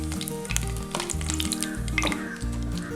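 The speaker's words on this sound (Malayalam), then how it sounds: "അപ്പോൾ നമ്മൾ തിരിച്ച് മറിച്ചൊക്കെ ഇട്ടിട്ടൊന്ന് നന്നായിട്ടൊന്ന് മൂക്കെ വറുത്തെടുക്കണം" Chicken pieces deep-frying in oil for crispy sesame chicken make a loud, constant sizzle up close. A dense bubbling crackle runs beneath a low rhythmic hum that repeats.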